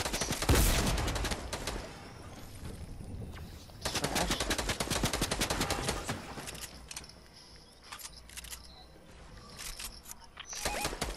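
Rapid bursts of automatic gunfire from a Fortnite match, loud and dense in several volleys with brief lulls between them, a voice faintly present underneath.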